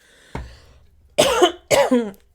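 Three sharp coughs: a lone cough, a pause, then two heavy, close coughs in quick succession with no talking.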